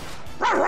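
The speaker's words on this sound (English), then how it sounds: "Don't ever make a dog noise again." A dog pet in a video game gives a short, bright bark with a slight whine to it, loud and close over faint game background.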